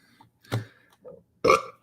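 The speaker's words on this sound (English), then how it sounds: "I'm eating watermelon. It makes me burp." Two burps from someone eating watermelon, a short one followed a second later by a louder, rougher one, close and quiet between them.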